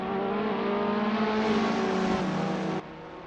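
Race car engines in Assetto Corsa during an online one-off race, a loud close engine whine climbing steadily in revs, then a shift and a sudden cut as the sound drops away.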